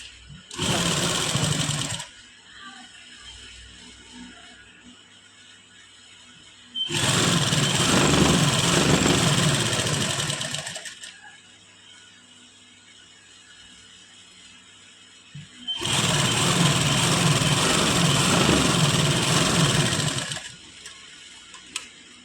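A sewing machine stitches pleats into a garment near the neckline in three loud, close runs of rapid mechanical whirring, separated by quiet pauses.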